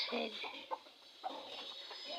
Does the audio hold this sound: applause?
no